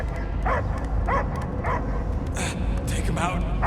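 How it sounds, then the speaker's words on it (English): A creature in the video game Guardians of the Galaxy gives a series of short, repeated barks and yips over a low rumbling game backdrop, with voices talking alongside. "I hear only barking."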